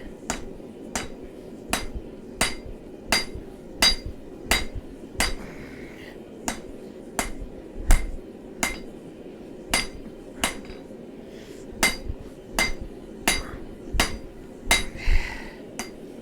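Hammer blows on hot steel during forging of a karambit blade, sharp metallic strikes landing in a steady rhythm about once every 0.7 seconds, loud and close, with faint ringing between hits.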